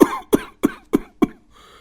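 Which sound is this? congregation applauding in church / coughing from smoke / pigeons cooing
coughing from smoke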